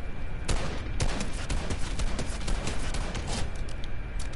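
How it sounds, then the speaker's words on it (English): Video game gunfire crackles in a rapid, uneven fusillade of sharp shots, loud and close, with some strikes landing near the listener, over a steady background. "I'm not appreciating being shot at!"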